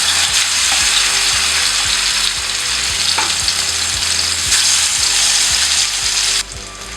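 Fish pieces fry loudly in hot oil in a pan for a king fish fry, a dense continuous sizzle with bubbling crackle, close by and unbroken until a sudden drop near the end.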